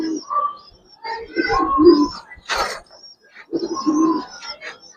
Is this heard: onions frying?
no